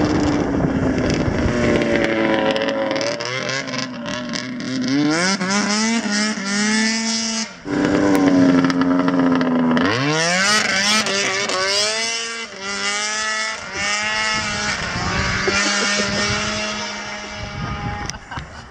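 A loud snowmobile engine roars and revs continuously, pitch sweeping up and down as it accelerates and passes, with wind buffeting the microphone, in wintry Finland.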